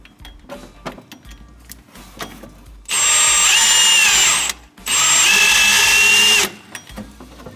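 Power drill spinning the dry-sump oil pump of a Honda-powered Ferrari to build oil pressure, two loud sustained whirring bursts of about two seconds each, separated by a short pause, with quiet workshop sounds before them.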